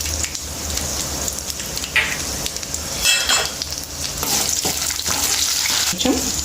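Mustard seeds, fenugreek, dried red chillies, garlic, chana dal and urad dal frying in hot oil for a tempering, giving a close, steady sizzle with scattered crackles and pops.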